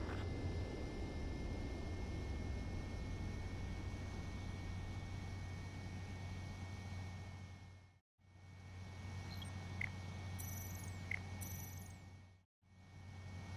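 A jet aircraft lands in the video game Ace Combat 7, a steady loud engine roar with a low hum and high whine that cuts out briefly twice, with small electronic beeps partway through.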